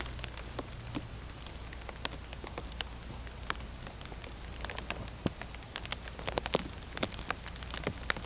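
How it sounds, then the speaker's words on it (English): Rain falls steadily outdoors at night, a soft continuous patter with scattered louder drops striking nearby surfaces and no voices. "It's 11 o'clock and here comes the rain."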